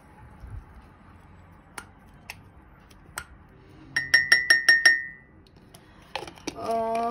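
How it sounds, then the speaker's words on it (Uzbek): A spoon mixing Nano balm SMART LUX into a glass of water: scattered single clinks, then a quick run of about six bright, ringing glass taps, ending with softer clatter. "Keyin mana suvimizga aralashtiramiz."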